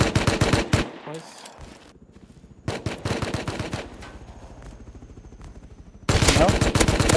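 Video game gunfire in Rust comes in rapid automatic bursts, loud and close, with a lull partway through and then a heavy final volley.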